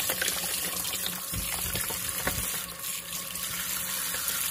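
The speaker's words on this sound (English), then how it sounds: "So after this, I'm gonna wash with water one more time." Running tap water splashes into a sink, with a few knocks and rustles of honey mushrooms being rinsed under the stream.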